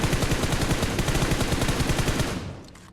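Rapid automatic gunfire from the mobile battle-royale game PUBG Mobile, a loud sustained burst of closely spaced shots that rattles on for over two seconds before tapering off near the end.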